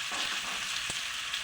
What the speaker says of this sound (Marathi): मिरच्या तळल्या गेल्या पाहिजे